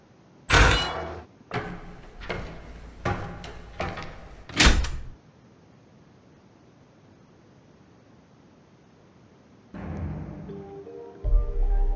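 A door in a back room handled roughly: a burst of sharp knocks and rattles, then a pause of near silence before a softer shuffling clunk, close and alone with no voices.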